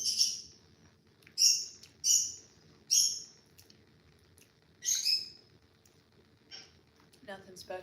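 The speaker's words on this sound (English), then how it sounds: "Bird, shut up." Pet bird chirping indoors during a lunch with cookies: a series of sharp, bright chirps, about six calls spaced irregularly, fairly close and alone over a quiet room hum.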